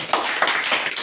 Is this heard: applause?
yes